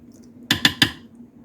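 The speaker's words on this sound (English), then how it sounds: "We'll put the lid on." A lid set onto a pot of pasta submerged in beef broth: three quick, close, bright metallic clinks in fast succession, ringing briefly over a quiet background.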